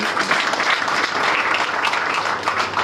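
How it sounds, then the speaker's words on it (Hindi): Audience applause at a Mi Lifestyle income seminar, a dense, steady wash of many hands clapping together, loud and close throughout with no voices over it. "सबके लिए एक बार जोरदार तालियां।"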